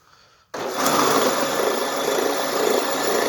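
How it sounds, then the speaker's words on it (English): Steel wire wheel switched on to clean carbon buildup off a Ford 841 tractor engine valve, starting abruptly after a quiet moment, then a loud, steady, close whirring grind. "we're going to clean the carbon off the last valve here. Then start cleaning on the head. So set up here at the wire wheel."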